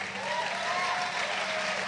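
An audience at a business conference talk claps steadily and loudly, with a dense continuous wash of applause filling the room.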